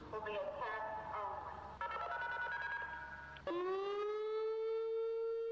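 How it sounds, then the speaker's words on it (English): An electronic civil defense siren sounds loud and close, its warbling tones shifting in pitch before settling into a steady rising wail. "Then you have electronic sirens that are literally like electric speakers"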